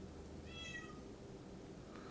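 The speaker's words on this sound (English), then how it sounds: "Sorry if you hear meowing in the background." A pet cat meows in the background behind a Silent Hill 2 game session, giving a short, faint, wavering cry over a steady hum of game ambience.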